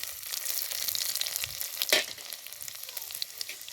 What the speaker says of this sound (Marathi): आता जिरे चढचडले आता लसूण टाकून घेऊ